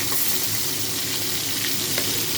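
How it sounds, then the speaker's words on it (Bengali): Small chopped fish heads fry in hot oil in a wok, a steady loud sizzle and crackle with no talking. "তেল গরম হয়ে গেছে। মাছের মুড়োগুলোকে এগুলো ভেজে নেব।"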